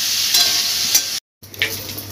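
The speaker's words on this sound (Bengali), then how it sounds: "যে এঁচোড়টা সেদ্ধ করে রেখে দিয়েছিলাম এই তেলের মধ্যেই দিয়ে দিলাম। এঁচোড়টা লাল লাল করে ভেজে নেব।" Boiled jackfruit, already seasoned with salt and turmeric, frying in hot oil in a pan, a steady close crackling sizzle that cuts out briefly midway, then resumes with a stirring scrape.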